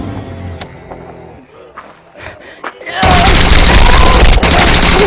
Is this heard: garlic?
no